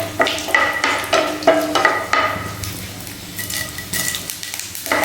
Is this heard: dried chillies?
yes